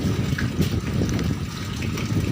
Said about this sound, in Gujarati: પાણીનો પ્રવાહ વધવામાં જ છે કેવી રીતના પાણી વધી રહ્યું છે